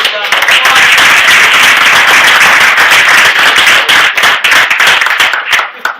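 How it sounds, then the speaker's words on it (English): Loud, dense audience applause for Raphael at an Illinois political rally in Elgin, a sustained wash of many hands clapping that continues for several seconds and tapers near the end. "Let's give Raphael a big round of applause."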